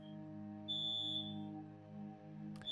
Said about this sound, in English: Nope, that's definitely my fire alarm.